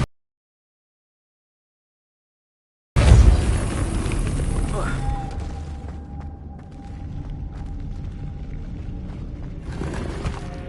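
The Depulso force spell fires in Hogwarts Legacy after a few seconds of silence: a sudden deep whooshing boom bursts out, then a rumbling magical wash with a faint tonal hum lingers to the end, with another swell near the close.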